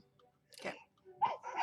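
A single short sneeze from a person at a tabletop role-playing session, fairly close and quick, followed by a brief spoken word.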